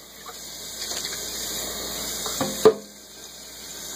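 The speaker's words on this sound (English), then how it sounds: "I'm just going to put some water in it, swish it around." Water sloshes and runs inside a Nutribullet Pro 900 blender cup, a soft continuous watery wash with small splashes and a brief sharper knock near the end, close by with no talk.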